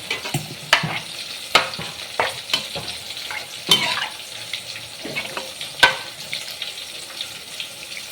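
Aloo kurma curry bubbles and sizzles in a pan after water is added, with a steady watery hiss punctuated by sharp knocks of a spoon against the pan.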